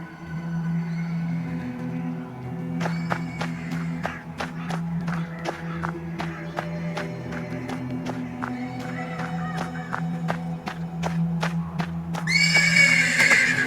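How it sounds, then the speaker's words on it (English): A horse neighs persistently in the stables of the dark RPG The Black Book, its repeated whinnies rising over a low steady drone, with hoof shuffles and faint clip-clops scattered through and a brighter burst near the end. "The persistent neighing of a horse can be heard from the stables."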